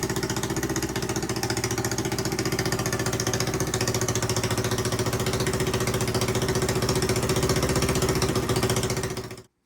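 A Honda XR200 motorcycle engine, freshly top-end rebuilt, idles steadily with a rapid, even chugging pulse for several seconds, then cuts out abruptly at the end.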